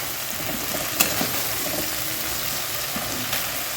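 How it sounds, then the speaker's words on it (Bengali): Spice paste with salt and turmeric frying in oil in a pan, a steady close sizzle with a couple of faint clinks of a utensil and no talking. "এখন এটা একটু কষাতে হবে, তারপর এটা যখন তেল ছাড়বে তখন এর মধ্যে টমেটোটা দিয়ে দেবো"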